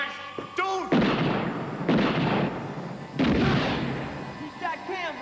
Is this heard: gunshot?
yes